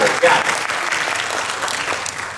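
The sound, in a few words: audience applause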